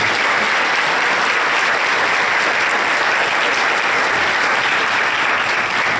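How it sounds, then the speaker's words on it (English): A large audience at a mayoral event on ending veteran homelessness gives elected officials a sustained round of applause, dense and loud throughout without a break. "If y'all could give them a round of applause,"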